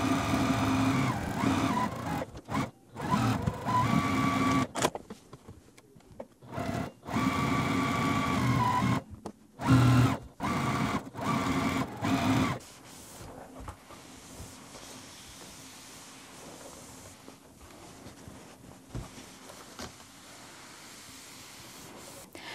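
A sewing machine backstitches a quilted pillow in short, start-stop bursts of whirring stitching during the first half, then falls quiet into soft handling noise.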